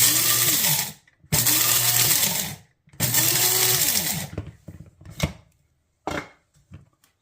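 Electric grinder pulsed a few times to coarsely chop meat for biltong, giving three loud whirring bursts with rising and falling motor pitch, then short rattles and clatter as the blade spins down.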